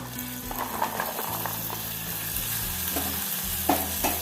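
Soaked chickpeas fry in oil inside a pressure cooker, a steady close sizzle with scraping stirs against the metal base.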